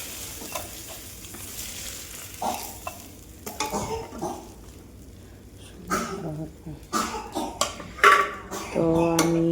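Fish fries in a pan with an uneven sizzle, broken by stirring scrapes and utensil clatter that grow busier toward the end, with a voice heard in the background.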